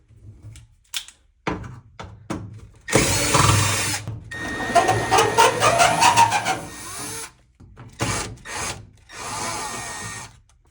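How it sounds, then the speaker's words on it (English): A power drill backs screws out of a GE dryer during blower motor replacement, with several close whirring bursts of varying length separated by short pauses and handling clicks. "I'm going to remove this black screw, and this one right here."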